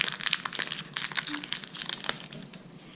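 Close, crisp crinkling and tearing as a foil Pokemon card booster pack is ripped open, a busy run of crackles that trails off at the end.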